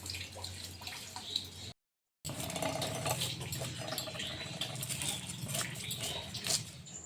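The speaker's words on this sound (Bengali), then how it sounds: "মাছটাকে বেছে ধুয়ে নুন মাখিয়ে রেখে দিয়ে চলে এলাম" Water splashing and running while a catla fish is washed by hand, a steady close wash of trickles and splashes with a brief dropout partway through.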